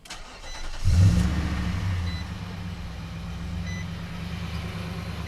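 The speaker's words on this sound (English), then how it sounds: "we're gonna go ahead and start up this truck" A Nissan Titan XD pickup starting up after an O2 and exhaust temperature sensor replacement: a short crank catches around one second into a loud burst, then settles into a steady, low, rumbling idle heard close up.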